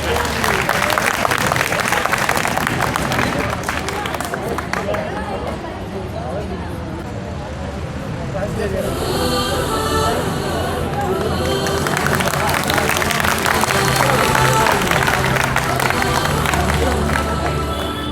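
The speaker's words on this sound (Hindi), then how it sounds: "आप सभी जोरदार तालियों से इनका स्वागत करेंगे।" A crowd at a Republic Day school program claps and cheers loudly and continuously to welcome young girls about to sing, with babble and a brief lull midway before the applause swells again.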